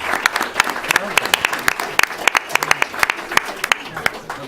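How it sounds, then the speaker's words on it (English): An audience at a panel discussion on democracy in India, Brazil and South Africa claps for the presenters; sharp, scattered handclaps ring out in quick succession while someone keeps talking over them. "a round of applause for the presenters"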